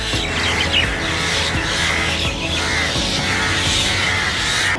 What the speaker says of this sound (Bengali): পাখির কিচিরমিচির শব্দ আপনার মনকে একদম নাড়িয়ে দেবে।